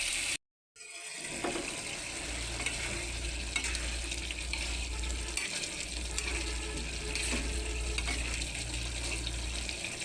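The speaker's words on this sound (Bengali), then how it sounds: "ভালো করে কষাম লাগবো" Food being sautéed (kosha) in a pan, a steady close sizzle and frying hiss with occasional stirring scrapes, running alone after a brief silence at the start.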